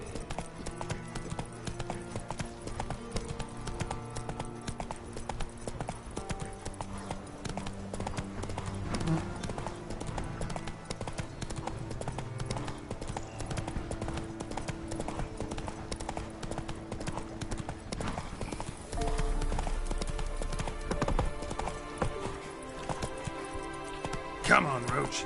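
Roach, a horse in the Witcher 3 video game, gallops with steady, continuous hoofbeats that run under layered game music for about 25 seconds, with brief bursts of voice.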